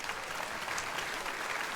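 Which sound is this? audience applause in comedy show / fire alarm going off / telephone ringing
audience applause in comedy show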